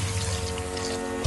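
Water running into a pot while noodles are being cooked with mushrooms and soy and chili sauces, a steady close splashing rush that lasts the whole moment and ends in a sudden thump.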